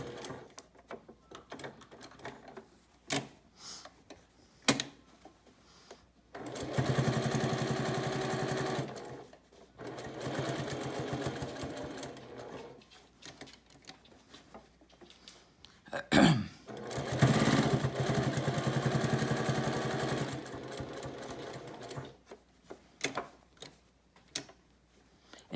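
A sewing machine back stitches a fabric bowl cozy in several sustained runs of rapid, even stitching, close and clear, separated by short pauses with faint handling noises.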